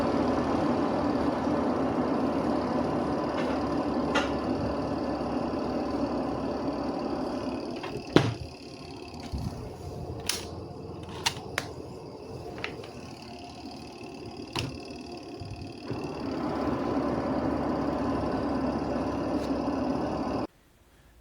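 Washing machine spin dryer running smoothly after a repair that cleared cloth tangled in it, a steady mid-level whirring hum broken by a few brief clicks and knocks, then stopping abruptly at the end.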